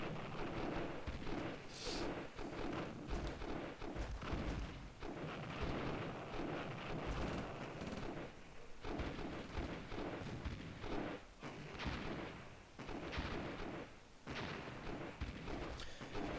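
Missile and siege unit fire during a Dune 2000 real-time strategy battle, a dense, continuous barrage of overlapping booms, blasts and crackling impacts that rolls on loudly for the whole stretch with little pause.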